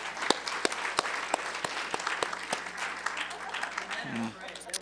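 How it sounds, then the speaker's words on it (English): An audience at a Women's History Month celebration applauds the men attending the event. Steady crowd clapping with some distinct louder claps throughout, a brief voice near the end. "let's give the males a round of applause for showing at this event."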